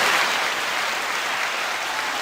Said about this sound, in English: there's a loud applause going on in his ear right now